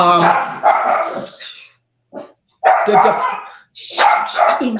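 A dog barks loudly and close in several bursts separated by brief pauses, with a person's voice mixed in around the barking.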